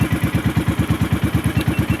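A small fishing boat's inboard engine running at sea throbs in a fast, even pulsing chug, loud and close, steady throughout with no voices.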